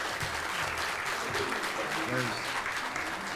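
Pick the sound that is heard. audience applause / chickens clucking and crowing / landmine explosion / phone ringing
audience applause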